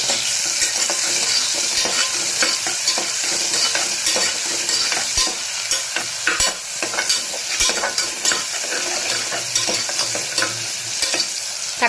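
Onions sautéing in a pan for a wheat rava biryani, with a loud, steady sizzle and frequent spatula scrapes and clicks across the pan, close up and without speech.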